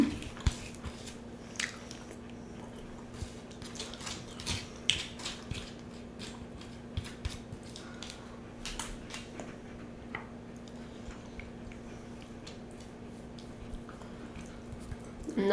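Crispy fajita is chewed close to the mic during a mukbang, giving repeated soft crunches and wet bites scattered over a quiet background, with no talking.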